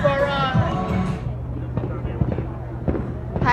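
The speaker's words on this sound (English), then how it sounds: "You can hear the gunshots all behind us." Distant gunfire from an outdoor shooting range on SHOT Show range day in the Las Vegas desert: scattered sharp pops sit faintly under a person talking, with background music.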